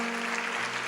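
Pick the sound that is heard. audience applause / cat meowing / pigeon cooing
audience applause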